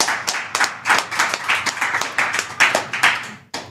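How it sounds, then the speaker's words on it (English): Nearby hands clap in quick, uneven bursts during a live business Q&A stream, with crisp individual claps sounding loud and close. "Let's clap it up."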